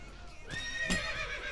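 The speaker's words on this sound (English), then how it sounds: "Lol, horse." A horse neighs in a video game, a bright whinny rising over background game noise with a brief snort-like burst before it.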